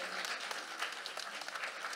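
Audience applauding after a preschool children's recital honoring Saint John Paul II in Stary Sącz, a steady wash of many hands clapping at moderate level throughout.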